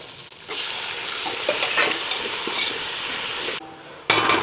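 Chopped tomatoes hitting hot oil for chicken pulao, a loud, dense sizzle that surges and holds steady while being stirred, briefly dropping away near the end before flaring up again, close and without voices.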